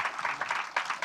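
Congregation applauding during a Pentecostal church service, dense steady clapping from many hands filling the room, with a few sharper bursts of clapping rising above the wash.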